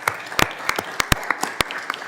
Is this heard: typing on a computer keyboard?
no